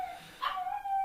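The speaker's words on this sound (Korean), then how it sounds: "이 방송을 하니까 밖에서 막 그 놀자고 우는 거예요." A pet dog whines and yips behind a closed door, wanting to play, with a thin, high, wavering cry that swells in the middle and trails off. It sounds muffled and indoors, and no one talks over it.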